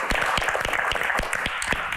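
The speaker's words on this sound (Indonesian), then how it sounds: "Tepuk tangan untuk ayah dari Mbak Anggun." A crowd claps steadily for about two seconds, a dense rattle of many hands with some individual claps standing out, fairly close.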